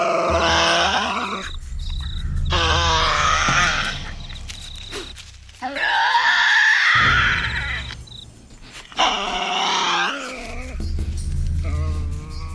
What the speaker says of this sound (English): This is the sound of the legendary Tasmanian devil